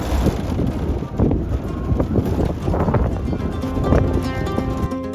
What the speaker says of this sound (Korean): 세미한 바람.